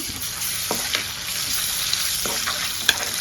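Ginger-garlic paste masala frying in a pan for a chicken fry: a continuous close sizzle with occasional stirring scrapes and small pops.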